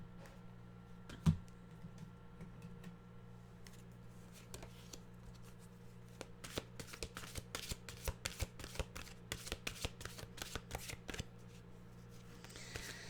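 Deck of mantra cards being shuffled close up, a run of quick, crisp riffling flicks in the latter half after a quiet start with a single tap.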